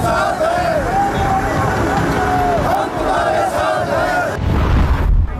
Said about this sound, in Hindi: किसानों की भीड़ किनारे कृषि बिल के समर्थन में है।